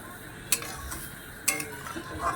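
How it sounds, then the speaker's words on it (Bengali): A spoon stirs watery katla fish curry gravy in a pot, with two distinct scraping strokes about a second apart over faint simmering, close and fairly quiet. "এবার আমি তার ঝোলটাকে ভালো করে একটু নেড়ে চেড়ে দেবো।"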